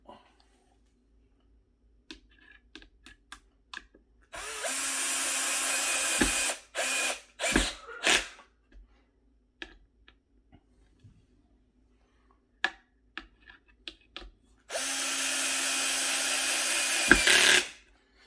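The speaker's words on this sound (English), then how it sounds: "because I have my drill set with a ratchet. It reaches a certain torque and it just starts ratcheting" A cordless drill with its clutch set to a torque limit ratchets while driving screws into a ClosetMaid closet organizer, two loud sustained buzzing bursts separated by short clicks and handling taps.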